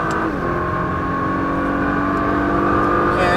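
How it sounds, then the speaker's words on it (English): A Nissan GT-R on Las Vegas streets pulls hard at full throttle, its loud engine note climbing steadily up close, with a shift change near the end. "full throttle, and up"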